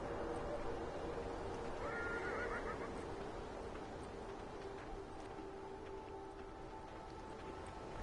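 A horse whinnies in a long, wavering call in a video game over a steady background hum, with hoofbeat-like clatter mixed into the continuous noise.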